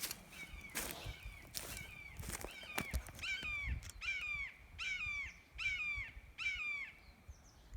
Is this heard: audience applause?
no